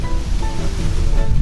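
Wind and rushing water roar steadily at the front of a boat on the Amazon River, a loud broadband wash with gusty buffeting against the microphone.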